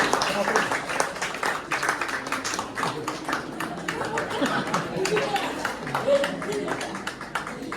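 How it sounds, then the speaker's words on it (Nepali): An audience at a combined youth and teen fellowship in Gangtok claps steadily throughout, a dense continuous patter of many hands under loud talking voices. "ताली बजाइदिनुहोस्"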